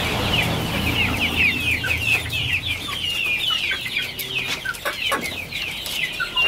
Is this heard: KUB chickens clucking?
yes